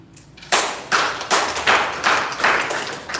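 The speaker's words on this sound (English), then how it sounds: "Thank the Lord by clapping" A school audience claps in unison, six or seven loud, evenly spaced bursts of many hands roughly every 0.4 seconds, with no talking.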